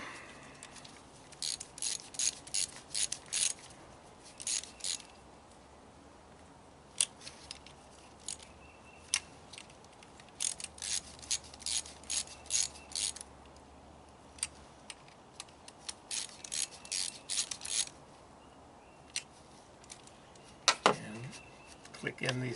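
Ratchet clicking while tightening spark plugs on a VW Passat at 67K miles, with bursts of quick, close metallic ticks repeated in irregular runs over about twenty seconds and brief pauses between strokes.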